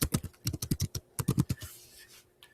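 Someone types on a computer keyboard in short irregular bursts of crisp, close key clicks, with a pause after each burst, then a faint rustle at the end. No voices are heard.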